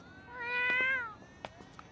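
Cat meowing in an anime episode at a school, one drawn-out high meow followed by a few faint soft sounds.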